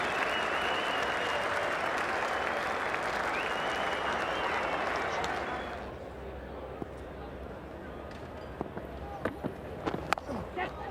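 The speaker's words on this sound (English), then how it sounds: "Generous applause there, and why not?" Cricket crowd at an Australia–India Test match applauding generously, a broad steady wash of clapping and crowd noise for about six seconds before fading to scattered claps and ambient murmur.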